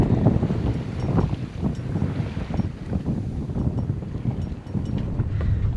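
Wind buffets a sailboat heading dead into the wind with the mainsail up, a steady rough rumble of wind against the microphone with no voices.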